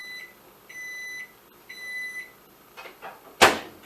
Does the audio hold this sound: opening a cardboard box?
no